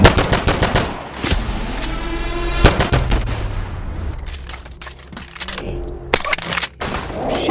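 Rapid, loud pistol gunfire from the VR shooter Boneworks, with dense bursts of close shots and impacts that pause briefly and then resume.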